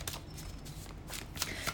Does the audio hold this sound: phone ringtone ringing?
no